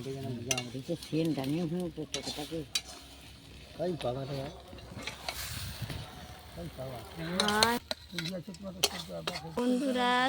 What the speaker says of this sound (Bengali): শোল মাছ ভাজা কমপ্লিট এই যে দেখো ঢেঁড়স দিয়ে ঢেঁড়সও ভাজা হয়ে গেছে